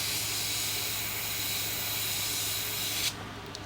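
Steady airbrush hiss of paint being sprayed onto a creek chub fishing lure, broad and continuous for about three seconds, then cutting off abruptly, leaving quiet with a couple of faint clicks.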